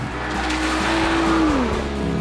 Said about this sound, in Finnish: Moottorista kantautuu sisätiloihin suoralle kutoskoneelle tyypillinen matala murina.